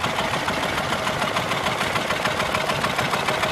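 Old stationary engines, including Moffat Virtue engines, run at the Woorenien steam rally with a dense, steady mechanical chugging and clatter, close and continuous, with no voices.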